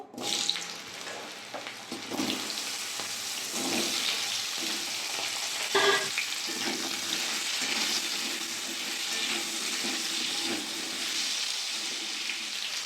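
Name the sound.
potato and taro frying in oil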